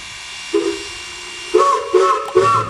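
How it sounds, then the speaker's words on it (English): Steam whistle of McCloud #18 locomotive as it pulls out: a sustained tonal blast followed by several short repeated toots, loud and close, with no talk over it. "he's going to blow the whistle to pull out"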